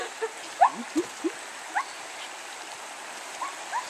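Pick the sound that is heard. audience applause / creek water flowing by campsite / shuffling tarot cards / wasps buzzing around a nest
creek water flowing by campsite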